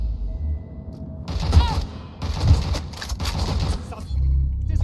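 Gunfire bursts in the video game Watch Dogs Legion, a series of sharp rapid shots in clusters with low thumps, loud and close over a busy game soundscape.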